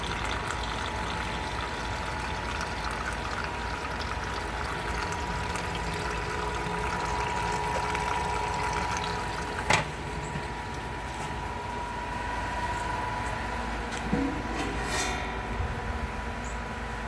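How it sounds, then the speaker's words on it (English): Continuous steady rush of sparge water flowing through a sight glass while brewing a NEIPA beer, an even broadband wash with a couple of brief clanks near the end. "Now we're sparging. See the water going through the sight glass."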